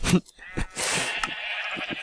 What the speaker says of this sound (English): this is my AFK sheep farm